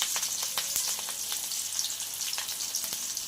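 Green chilies frying in a pan give a steady, close hiss of oil with small crackles and pops throughout, and no voice is heard.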